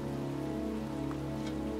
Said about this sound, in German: Stattdessen stehe ich bei strömendem Regen auf einem Friedhof